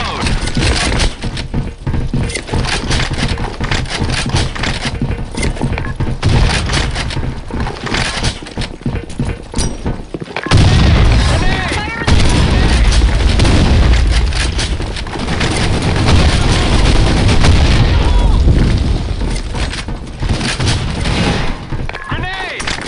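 Gunfire and grenade blasts in the shooter game BlackShot make a loud, dense barrage of shots and heavy booms, with voices shouting over the fight.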